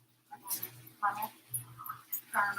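Puppies give short whimpers and high yips in scattered bursts, fairly faint, with a voice talking among them.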